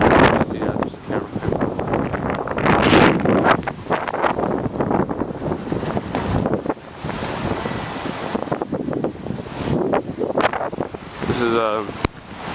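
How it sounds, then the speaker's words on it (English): Hurricane Sandy's strong wind roars and buffets the microphone on the flooded Brooklyn waterfront, while surf crashes loudly and continuously beneath it in heavy, surging gusts. "It's not a lot of rain, it's just the wind and the coastal flooding."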